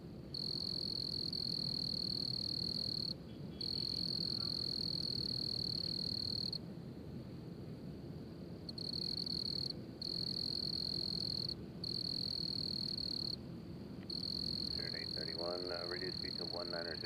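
A cricket outdoors near Nashville International Airport chirps in a loud, continuous high trill that breaks off in several short gaps, with a low rumble of background noise and a voice speaking briefly near the end.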